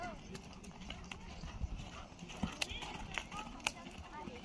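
A pony gallops at a medium pace on a cross-country eventing course, with soft rhythmic hoofbeats under constant outdoor background noise and a rider calling encouragement.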